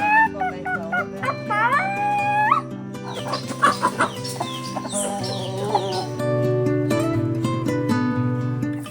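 Chickens cluck and squawk inside a chicken house, several birds calling loudly and continuously up close, with a rooster-like crow early on and a busy, overlapping flock sound throughout.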